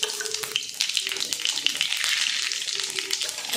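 Cumin and mustard seeds crackle and sizzle in hot oil, a continuous bright hiss with scattered small pops, moderately close, without speech.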